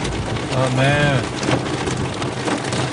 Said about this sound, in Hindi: बड़ी तेज बरसात है